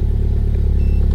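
A Mini Cooper F21 with a K04 turbo, billet parts and a catless downpipe runs loud and close, giving a steady, rumbling engine drone throughout with no voices.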